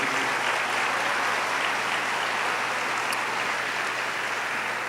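A large church congregation claps steadily and loudly throughout, a dense continuous wash of applause with no pauses.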